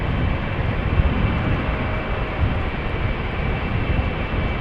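An airliner lands at Amsterdam Schiphol Airport on the Polderbaan runway, its engines making a steady, broad roar that holds evenly throughout from a moderate distance, with no voices.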